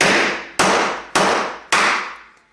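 A hammer strikes a disc cutter set in a hydraulic press four times at a steady pace, each blow a loud, sharp metallic crack with a ringing tail that fades before the next.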